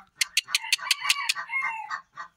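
A rooster suffering from coryza gives a series of rapid, sharp clucking calls that run into a strained, wavering crow, close and fairly loud against a quiet background.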